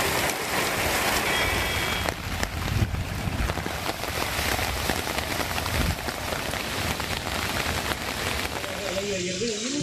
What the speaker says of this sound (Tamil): 1 மணி நேரத்திற்கும் மேலாக பெய்த மழையால் குளிர்ச்சியான சூழல்